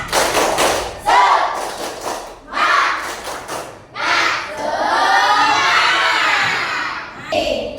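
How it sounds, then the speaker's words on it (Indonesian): Schoolchildren in a classroom coding lesson do a rhythmic spirit clap, sharp bursts of clapping in quick patterned groups broken by pauses, mixed with loud excited shouting and chanting voices. "Tepuk semangat dulu. Tepuk semangat."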